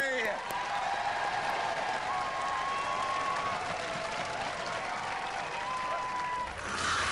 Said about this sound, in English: Ladies and gentlemen, give them a round of applause, the Stinger Posse!